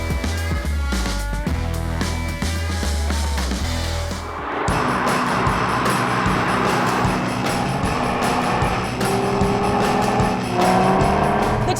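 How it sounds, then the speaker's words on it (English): A 2018 Audi TT RS sports coupe with a turbocharged five-cylinder engine, all-wheel drive and seven-speed dual-clutch gearbox, revving and pulling hard through gear changes, loud and close, with a shift in engine note midway and no talking. "It's the 2018 Audi TT RS. It's all-wheel drive, 7-speed dual clutch transmission, and it's got a turbocharger that produces nearly 20 pounds of boost."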